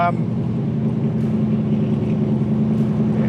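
A 1964 big block Corvette convertible engine rumbles loudly and steadily at idle, a deep continuous drone with a slight echo.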